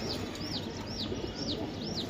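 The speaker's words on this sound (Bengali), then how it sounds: "এই যে দেন দর্শক কবুতর দেখছেন ভাই" Racing pigeons at a pigeon club sale give five thin, evenly spaced chirps over a steady background hiss, faint and without talk.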